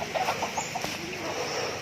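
Several short clucks from chickens, close by, in a quick irregular series over steady outdoor background noise.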